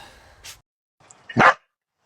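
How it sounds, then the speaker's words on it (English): A dog gives a couple of sharp barks nearby, a smaller one followed by a louder, fuller bark after a brief pause. "Dash is here barking as per usual."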